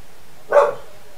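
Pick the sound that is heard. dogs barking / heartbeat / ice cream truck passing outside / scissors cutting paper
dogs barking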